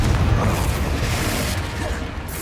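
Expulso and Confringo spell explosions in the video game Hogwarts Legacy, a loud, dense rumbling boom with a heavy low end that sustains throughout and fades only slightly.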